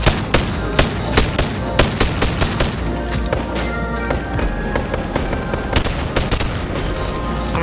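Gunfire from a weapon in the VR game Boneworks: sharp, loud shots crack out in quick succession over the first few seconds, then blur into a dense, steady rattle under a faint tonal background.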